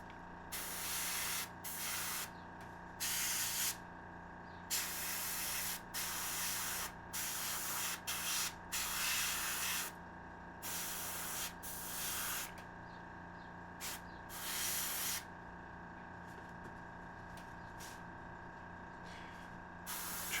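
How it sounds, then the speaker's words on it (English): An airbrush spraying paint in repeated short bursts of close, sharp hiss, each lasting a second or so, separated by brief pauses with a faint background hum. "Clean off the airbrush a bit."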